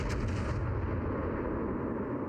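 Battleship firing HE shells in World of Warships Legends, one heavy boom at the start that decays into a low sustained rumble, with no talk over it.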